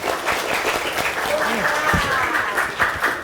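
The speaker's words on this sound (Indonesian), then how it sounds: "tepuk tangan dulu dong." Children clap together at a school lunch event where free meals are handed out, a brisk burst of clapping with excited voices and chatter mixed in throughout.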